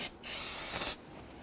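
A short burst of solvent spray hisses onto a brake master cylinder cover on a 2008-2013 Infiniti G37, a single steady blast just under a second long, close and fairly quiet.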